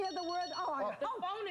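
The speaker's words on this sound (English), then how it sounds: "The phone is ringing." A telephone rings in a warbling, tonal pattern behind overlapping talk. The ringing is fairly quiet and mixed in with the voices rather than standing alone.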